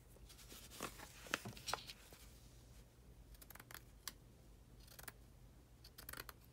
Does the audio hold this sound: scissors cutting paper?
yes